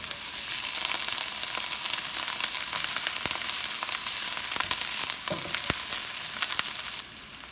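Onions and garlic fry in a pan with a dense, continuous sizzle and crackle, close and fairly loud, with occasional sharper pops and stirring scrapes, dropping off abruptly near the end.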